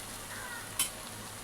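Tondli (ivy gourd) pieces are stirred in a pan over low heat with a soft, quiet background sizzle, broken by one brief scraping clink of the spoon against the pan partway through.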